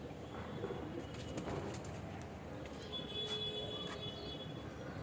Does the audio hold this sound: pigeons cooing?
yes